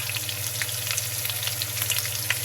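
Ginger, garlic and cumin paste frying in a pan for prawn biryani makes a steady, close crackling sizzle throughout, with faint stirring and no talk.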